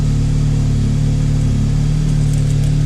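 An Audi S3 engine starts and runs loud and close, a steady low rumble with a throaty exhaust tone, no voices.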